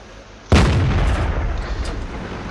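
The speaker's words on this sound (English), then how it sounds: "Missiles away." Missile launch from a Cruiser II tank in World of Tanks: one sudden loud blast followed by a long roaring rush that fades slowly.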